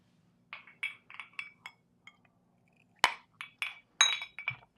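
A glass nearly knocked over clinks sharply several times in quick rattling bursts, close and bright against an otherwise quiet room.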